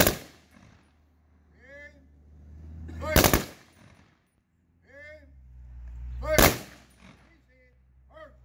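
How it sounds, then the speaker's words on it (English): A rifle squad fires volley salutes at a military burial, two sharp, loud simultaneous cracks about three seconds apart, with shouted commands heard between them. "Rifle squad, port arms. Prepare to fire."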